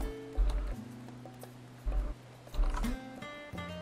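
Quiet computer keyboard being typed on in a few short bursts of soft key clicks, faint and close, against a background of steady game music tones.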